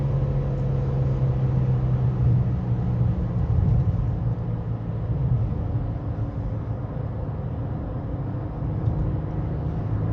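Infiniti G37 engine revving toward 7000 rpm while driving at speed, a steady loud low droning engine and road roar that holds and swells slightly, heard from inside the car without distinct rev peaks.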